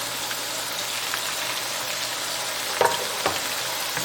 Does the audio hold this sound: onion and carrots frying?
yes